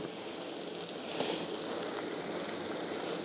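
Ginger and garlic paste frying in a little oil on a gas stove for chicken gravy: a steady, dense crackling hiss that swells slightly and then holds evenly throughout.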